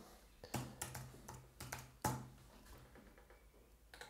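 Typing on a computer keyboard while entering a destination into a bike route planner, a run of quick, uneven key clicks with a few sharper strokes, close and alone with no talk.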